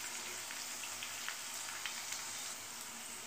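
Green chillies and garlic fry in hot oil for an onion gojju, a soft, even sizzle with scattered tiny pops and crackles, heard alone and fairly faint.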